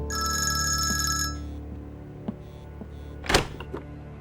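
A telephone rings indoors in a home setting: a loud, continuous electronic ring for just over a second, then low background hum, soft clicks and a brief louder knock near the end, with no talk.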